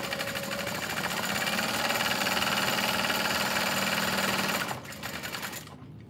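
A sewing machine at stitch length 5 stitches across the bottom of a bowler bag, a fast continuous mechanical whir that runs steadily, then drops off sharply near the end and stops.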